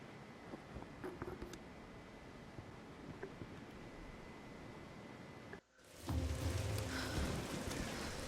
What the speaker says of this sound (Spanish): Nos acercamos a la tormenta.